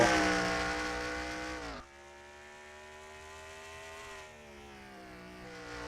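NASCAR race cars in a video game at Infineon, a loud engine whine holding steady pitch, then dropping and fading as the cars pass, with a quieter engine hum continuing after.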